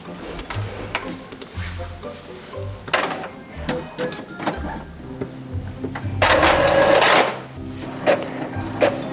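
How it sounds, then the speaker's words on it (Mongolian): Office printer running at a social insurance office, clicking and ticking mechanically in irregular bursts with a louder whirring feed pass midway, fairly close. "За хэвлэж."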